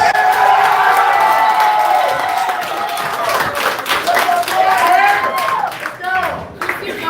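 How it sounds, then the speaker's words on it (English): A live comedy-show crowd at an anniversary night claps, cheers and whoops loudly, with shouting voices on top, the roar dipping briefly near the end before surging again. "standing up and applauding"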